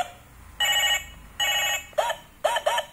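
A mobile phone pulled from spilled truck cargo rings loudly nearby in bursts, two long electronic trills followed by shorter rapid chirps.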